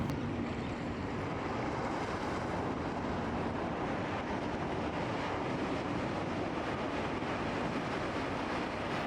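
Waves surge and splash against a rocky shore's splash zone, a steady, dense roar of broadband wash with no distinct breaks, close and continuous throughout.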